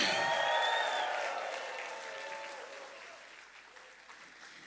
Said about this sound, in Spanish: Den un aplauso al Señor por esa victoria